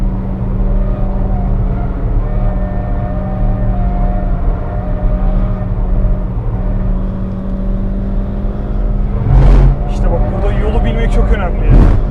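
A Skoda Fabia vRS engine pulls hard on the road, a continuous droning roar that climbs gradually in pitch, with a few sharp knocks and rattles near the end.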